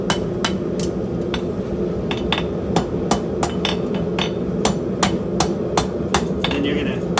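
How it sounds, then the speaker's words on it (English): A farrier hammers a homemade horseshoe with sharp, metallic strikes in an uneven but steady rhythm, close and clear over a low background hum, with occasional speech. "you just kind of hammer that down a little bit"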